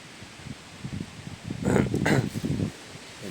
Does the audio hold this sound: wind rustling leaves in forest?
yes